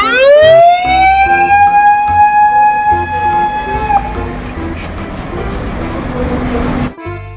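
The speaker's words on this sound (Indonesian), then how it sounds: "Di sini ada mobil pemadam kebakaran." A toy fire truck siren wails in a rising, steady electronic tone, then cuts off, leaving a noisy background hum and a click.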